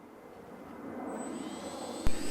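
An X-Fly Su-27 Flanker model jet on its maiden flight, taking off from its wheels: a rising electric-fan whine and whoosh building over a short run, with a sharp knock near the end and no voices.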